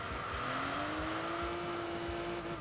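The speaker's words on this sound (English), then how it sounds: "Oh, that engine sounds so good though. Like, for a V6, like, this is absolutely amazing." A V6 engine revs steadily upward in the Enthusia Professional Racing game, its tone rising smoothly and holding high, heard fairly quietly on its own.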